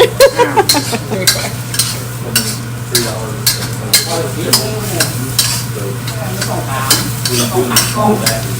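Korat noodles stir-fried in a pan, with a continuous loud sizzle under rhythmic, close scraping and tossing of the spatula against the pan throughout.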